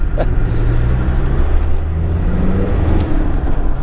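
A Td5 Land Rover Defender tuned to 231 horsepower drives under light throttle, its engine giving a steady, loud low rumble with dense road noise throughout and no voices.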